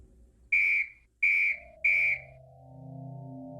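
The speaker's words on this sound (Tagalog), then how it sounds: "Matapos ay sumipol ng 3 ulit si Tia Melinda" Three short, sharp whistles in a row, evenly spaced and loud, followed by a faint low hum.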